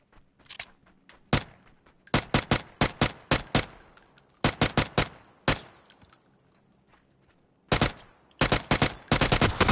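Rapid automatic gunfire from the video game PUBG, bursts of loud, sharp shots fired in quick clusters with brief pauses between volleys, close and dominant with almost no talk.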